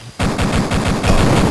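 Rapid automatic gunfire from the video game Duke Nukem 3D, loud and close, a dense rattling burst of shots in quick steady rhythm that swells slightly toward the end.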